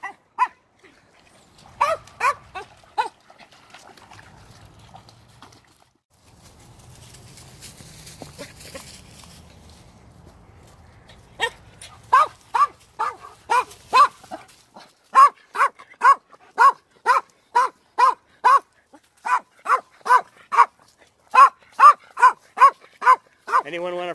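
Dogs bark outdoors in a long, steady run of sharp, loud woofs near the end, after scattered earlier barks and a quieter stretch of rustling.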